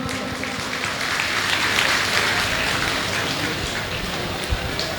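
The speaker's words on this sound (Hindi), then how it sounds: "एक बार तालियां बजा के मुझे सूचित करें कि मैं पढ़ना शुरू करूं" A crowd at a Hindi poetry recital claps in a dense, steady wash of applause that sounds almost like rain, with no speech over it.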